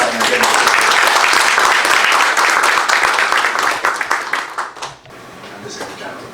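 A conference audience at a UN and African Union event breaks into sustained applause. The dense clapping holds steady, then thins out and fades after about five seconds.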